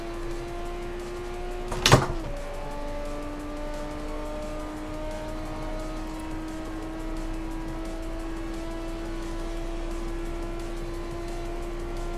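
A race car in Forza Motorsport 4 held against the rev limiter in second gear, a steady high engine drone with one sharp transient near the start, then a sustained even tone with no talking.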